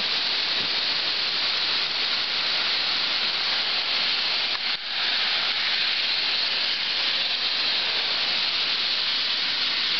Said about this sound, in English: That's quite the rain.